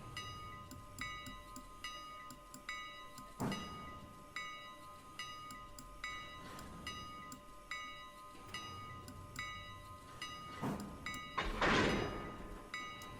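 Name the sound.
freight train cars coupling in the video game Railroader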